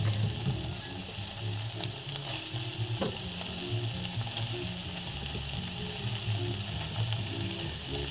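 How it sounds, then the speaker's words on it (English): Sliced sausage sizzles steadily with softened onions in a pan for creamy fettuccine, a continuous close crackle with occasional utensil taps and no talking. "I sliced mine up. Just throw them in there to cook."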